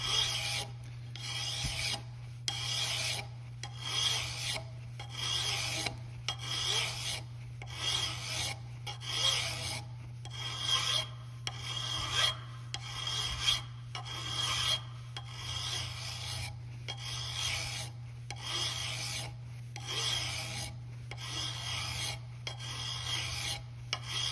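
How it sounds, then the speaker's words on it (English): A hand file rasps across a metal edge in steady, evenly paced forward strokes, about one per second, close and loud over a constant low hum, with no talking. "I'm trying to keep that edge that I'm filing equal straight across"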